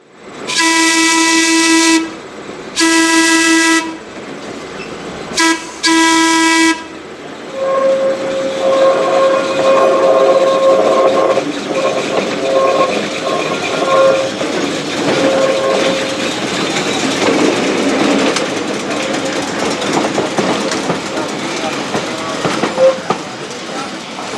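An electric trolley on the Midwest Electric line at Old Threshers in Mount Pleasant, Iowa, with open-air cars, sounds its horn in two long and two short loud blasts, then runs past with a steady rumble and a rising, falling motor whine.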